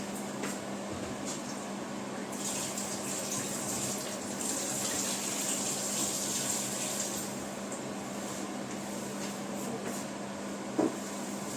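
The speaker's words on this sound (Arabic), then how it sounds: "اغسل ايدي بس الاول" Water runs steadily from a kitchen tap while hands are washed, a continuous close splashing hiss with a brief knock near the end, no voices.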